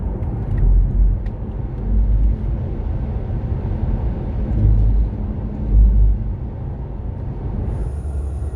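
Old, worn Tesla Model S accelerating on a road trip, a low rumbling road and motor drone with swelling low surges and no talk.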